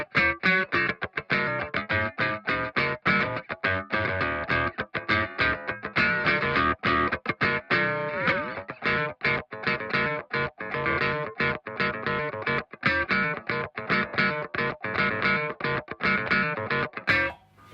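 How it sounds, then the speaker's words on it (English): An electric guitar played in quick, choppy phrases through the ring modulator of a BOSS MD-500 modulation pedal, giving a metallic, clangorous, inharmonic tone, loud and close with no talking. "And then we're moving on to ring modulator,"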